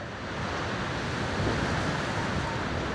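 A strong windstorm roars across the village of Mota Jijuda near Savarkundla. The broadband rush is steady and swells slightly after the first half second, with no voices.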